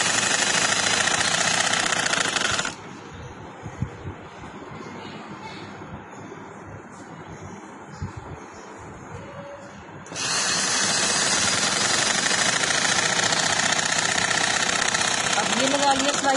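A sewing machine stitches a seam on a shalwar for a Pathani pajama, its loud steady mechanical run starting, halting into a quieter stretch of handling noise, then resuming just as loud and continuous.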